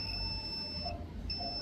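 A multimeter's continuity buzzer sounding while probing a capacitor on a Panasonic LED TV backlight board, a faint high steady tone that cuts out briefly and then resumes, over low hum.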